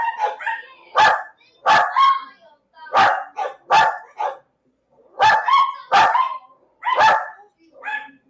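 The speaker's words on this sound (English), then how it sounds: "They sound very dangerous, don't they? Super threatening. Terrifying. Terrifying dogs." Several dogs bark sharply in short bursts, close and loud, with yips and a brief whimper between the barks, which come in irregular clusters with short pauses and no talking.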